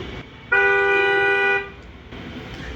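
An obstacle detection sensor kit plays a recorded car horn, a single loud sustained honk of about a second rising abruptly out of quiet room noise and then cutting off.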